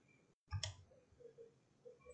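Computer mouse clicking during CAD work in DesignSpark Mechanical: a short, close burst of a couple of crisp clicks, then faint quiet room tone.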